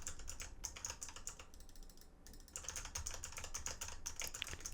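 Fast button mashing on a loud clicky-switch keyboard gives dense, rapid sharp clicks in uneven bursts with one brief slower patch. The sound is near but fairly quiet, with no talking.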